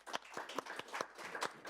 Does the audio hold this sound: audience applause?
yes